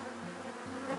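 Honeybee swarm buzzing at a hive, a dense close drone with several overlapping wingbeat tones shifting in pitch over a brief moment.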